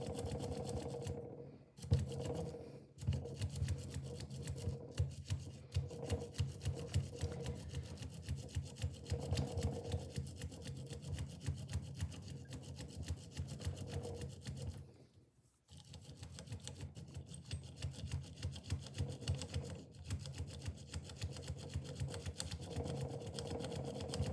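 A bassoon reed tip profiling tool shaving cane, a fast, steady mechanical buzzing rattle that runs almost without a break, stopping briefly twice, quiet and close.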